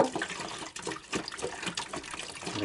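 Water poured from bottles into a makeshift outdoor sink at a country dacha, a steady splashing trickle that swells and dips, close and alone with no talking.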